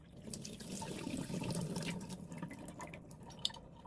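Water poured into a container of sprouting seeds, a steady close trickle and splash with scattered drips running throughout, ending with a brief sharper drop.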